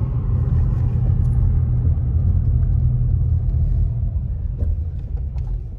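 A car cruising along a road on a calm winter day before a storm, a steady low rumble of engine and tire noise heard from inside the vehicle, continuous with no talk.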